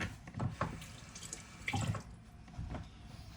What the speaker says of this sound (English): So let me get some water on my hands.